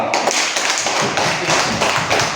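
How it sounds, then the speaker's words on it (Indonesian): A classroom of children clapping together for a classmate, a dense burst of rapid overlapping hand claps that stays steady and fairly loud for the whole stretch, with no talking. "Tepuk tangan untuk Sivo."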